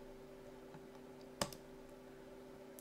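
A single sharp mouse click while charting in LibreOffice Calc on a computer, quiet and isolated against a faint steady electrical hum, with no talking.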